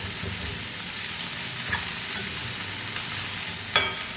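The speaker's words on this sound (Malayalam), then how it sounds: "ഇനി കയ്പയ്ക്ക് നല്ലോണം പച്ചമണം മാറുന്ന വരെ ഇളക്കണം കേട്ടോ." Bitter gourd fries in a pan while being stirred for a spicy-sweet pickle. A steady close sizzle runs throughout, broken by an occasional scrape of the spoon against the pan, with no talking.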